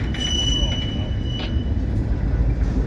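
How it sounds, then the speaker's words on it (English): A CSX tie train, hauling ex-Conrail cars, rolls past at Point of Rocks with a steady low rumble of wheels on rail and faint high squeal tones, loud and close throughout. "This is a tie train."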